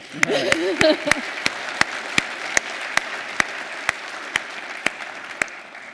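Audience applause at a panel talk on the future of capitalism: a brief voice at the start, then a steady wash of clapping from a seated crowd, with distinct sharp claps landing at an even beat throughout.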